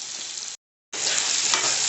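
Whole spices such as cinnamon, fennel, cloves and cardamom fry in a pan with almonds and cashews, making a close, even sizzle that drops out briefly before resuming.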